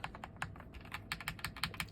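Rapid typing on an Aigo A100 mechanical keyboard fitted with yellow switches, a close, steady run of crisp key clicks and clacks alone with no voices.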